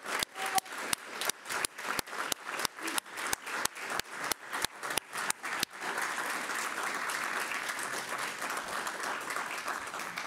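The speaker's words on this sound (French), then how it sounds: "si vous voulez bien applaudir l'équipe actuelle" An audience applauds a team at a Coronation Medal ceremony, starting with a near, rhythmic series of single loud claps, then swelling into steady, dense applause from the whole room.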